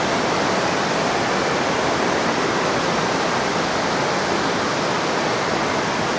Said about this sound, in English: So it's absolutely pouring rain out there.